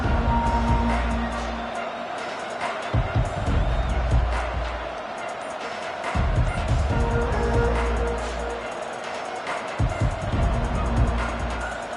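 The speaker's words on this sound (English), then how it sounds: "with this place rocking, the crowd forces a false start" A stadium crowd roars in a college football video game, a loud swelling rumble that rises and falls in waves beneath a commentator's steady play-by-play.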